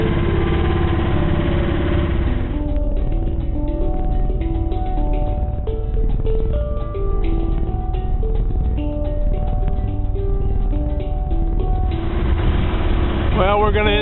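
A sailboat's inboard engine idles and motors steadily away from a fuel dock, a continuous mid-pitched drone with vibration throughout, with no one speaking.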